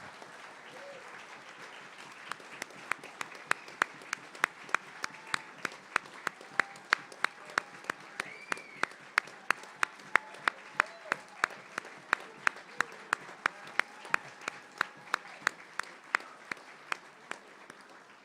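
A party audience at a radio station's broadcaster and volunteer appreciation event gives a round of applause, with sharp, widely spaced individual claps ringing out over a low murmur and faint talk in the room.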